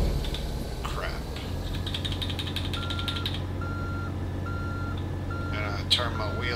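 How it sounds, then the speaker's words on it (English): A truck in American Truck Simulator reverses, its backup alarm giving a string of evenly spaced beeps over a low engine rumble, with a few clicking mechanical sounds nearby. "And I turn my wheel this way and start backing up."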